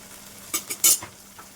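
Masala for fish biryani is stirred and fried in a pan, with a few quick scraping clinks of a spoon against the metal over a faint sizzle, close and brief with no talking.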